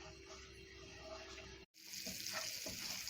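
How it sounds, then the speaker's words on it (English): Blended onions heat in half a glass of coconut oil, a steady sizzle with soft stirring scrapes, cut by a brief dropout midway before the bubbling returns brighter and denser. "It is now being heated up and we are going to be stirring it"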